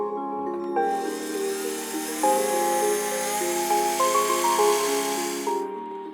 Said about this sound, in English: it's time to drill the hole for the Jesus fastener